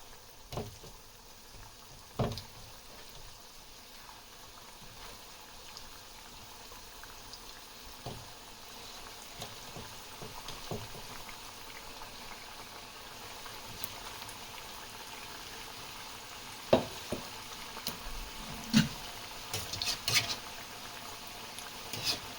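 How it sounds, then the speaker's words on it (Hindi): Sindhi pakoras deep-fry in hot oil with a faint, steady bubbling hiss, punctuated by occasional soft clicks and taps spread through the stretch. "अब ये ऑयल हमारा गर्म हो चुका है, तो अब हम फ्राई करने के लिए ये पकोड़े डालेंगे।"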